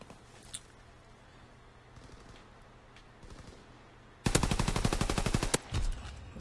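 A machine pistol in the Call of Duty: WW2 multiplayer game fires a loud, rapid full-auto burst of about a second, a tight string of sharp cracks that cuts off abruptly after quieter background game noise.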